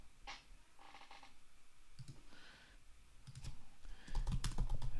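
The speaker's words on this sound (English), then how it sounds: "I can't type when I'm typing quickly." Irregular bursts of keystrokes on a computer keyboard, faint and nearby, grow quicker and denser toward the end with a few sharper clicks.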